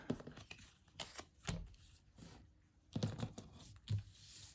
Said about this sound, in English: Let me pull out some more cards